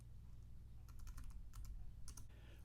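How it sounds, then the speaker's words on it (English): Keys on a computer keyboard are typed in a few quick, faint bursts of clicks over a low steady hum, with no talk. "We'll type in Star Wars, for the application name."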